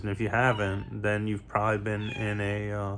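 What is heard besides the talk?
cat meowing in the background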